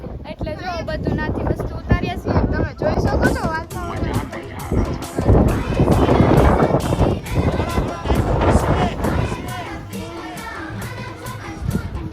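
Strong gusty wind from a cyclone hitting Junagadh buffets the microphone in rough bursts while people talk over it.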